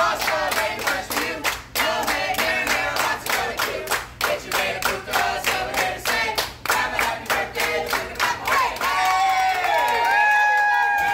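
A family clapping a steady rhythmic beat together at a birthday dinner, the claps close and loud, with voices talking over them.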